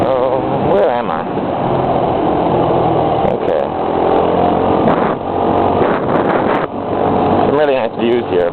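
Scooter engine while riding on mountain roads in Taiwan, a loud, close, continuous buzzing drone with wind buffeting that rises and dips as the rider changes speed over bumpy pavement.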